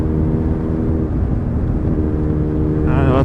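A Suzuki GSR750 motorcycle fitted with a Yoshimura R11 exhaust, ridden at night, drones at a steady, loud engine note that holds constant throughout, with a brief higher-pitched rise near the end.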